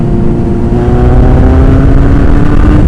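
A Kawasaki ZX9R motorcycle engine pulls hard under acceleration, a loud, close, steady drone whose tone climbs gradually toward around 7,000 revs, with no voices over it.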